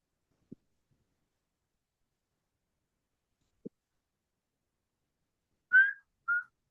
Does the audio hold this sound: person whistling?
yes